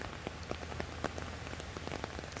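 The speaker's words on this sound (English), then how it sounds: "Cameron, how are the roads looking now as the rain continues to come down?" Heavy storm rain in Richmond pattering densely on hard surfaces, steady and close with scattered sharper drips, no voices.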